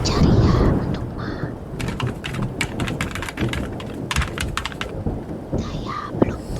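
Heavy night rain pours steadily over Kuala Lumpur, heard from inside a small studio, while distant thunder rolls and rumbles through a dense, continuous wash of rainfall that stays loud from start to finish.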